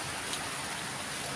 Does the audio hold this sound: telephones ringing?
no